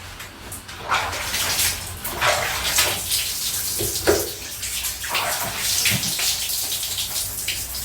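Water running and splashing while an eight-month-old Jindo dog is showered, an uneven gushing stream with bursts and spatters over a steady hiss, fairly close; no speech.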